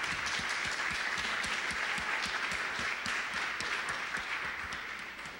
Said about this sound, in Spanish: quisiera agradecer a los traductores y pedir un aplauso para ellos que han estado allá